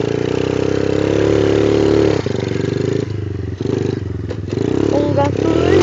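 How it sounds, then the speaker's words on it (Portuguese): A 50cc motorcycle engine idles close by with a loud, steady buzzing putter, briefly dipping and clattering a few times. "Ligar a moto, que é uma cinquentinha."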